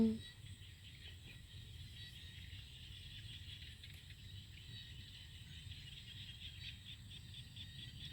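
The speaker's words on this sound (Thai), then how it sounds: "ธรรมชาติบำบัด เสียงกบเสียงเขียด ล้อมรอบ" Frogs and insects call around rice fields and a resort in the evening countryside, a faint, steady chorus of trilling and chirping with a soft low rumble beneath and no speech.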